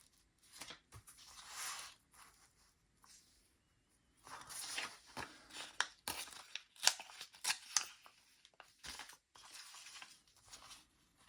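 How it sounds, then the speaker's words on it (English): Scissors snip through gelli printed collage paper in short bursts of crisp cutting and rustling, close and fairly quiet, with pauses between cuts. "I will cut the edges clean"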